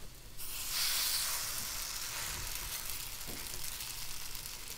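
Zucchini pancakes fry in a hot pan with a steady, loud sizzle and hiss that swells quickly at the start and then holds evenly, with no voices.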